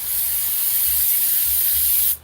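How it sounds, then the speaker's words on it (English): A steady, loud hiss of aerosol spray cleaner blasts continuously onto the carburetors of a 1995 Kawasaki Ninja 900 for about two seconds, then cuts off abruptly. "Spray clean real quick here. Spray things off."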